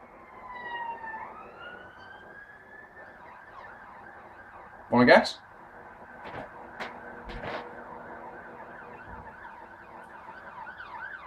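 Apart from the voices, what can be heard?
ambulance siren passing outside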